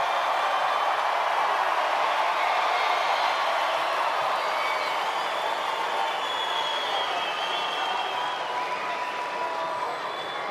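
A large tennis crowd at a United Cup match in Perth roars steadily and applauds, a continuous broad wash of noise that holds for the whole stretch with no talk.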